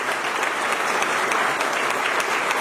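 Loud, sustained applause from a gathered audience at a spiritual gathering honoring a visiting guest, many hands clapping in a dense, even roar with faint sharper claps standing out.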